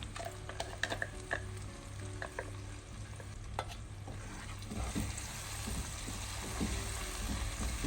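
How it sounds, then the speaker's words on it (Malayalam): Blended tomato purée sautéing in a pan for egg mandi, a steady close sizzle with scraping stirring strokes, growing denser and busier toward the end, with no talking. "അപ്പോൾ അതുവരെ ഒന്ന് നമുക്കിതൊന്ന് വഴറ്റിയെടുക്കാം"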